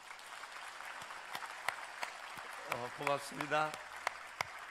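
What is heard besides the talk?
audience applause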